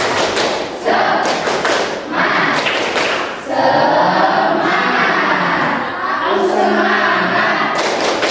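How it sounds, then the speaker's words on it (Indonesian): A school class claps the 'tepuk semangat' pattern together in a lively rhythm, several bursts of group claps and thumps mixed with shouted voices, loud and close throughout. "Bapak akan cek semangat kalian dengan tepuk semangat"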